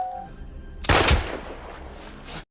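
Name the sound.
gunshot in a film as an SS soldier shoots a cow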